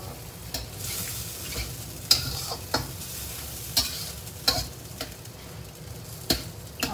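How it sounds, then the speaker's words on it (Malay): Steady sizzling of beef lung frying in a pan for sambal paru, with repeated scraping and clacking of a utensil against the pan at irregular intervals. "Goreng bagi garing, goreng bagi garing baru sedap."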